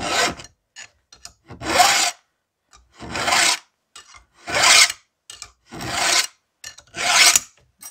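A hand file rasps across a chainsaw chain, filing the cutters in an upward direction, in about six firm, evenly spaced strokes, each a loud, close scrape followed by a short pause.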